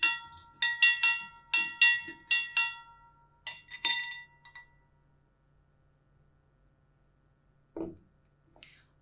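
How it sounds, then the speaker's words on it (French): A spoon clinks against the inside of a glass jar while stirring sugar for kefir, a burst of quick bright metallic taps that slows and stops, followed by a couple of faint soft knocks. "à l'aide d'une cuillère ou d'une spatule, je vais ensuite mélanger"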